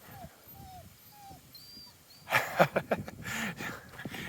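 A dog whimpers in thin, high, repeated whines, then rustling and shuffling noises take over nearby.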